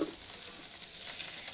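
Potatoes frying in hot oil, a steady close sizzle with a soft crackling hiss that holds evenly throughout, no voices.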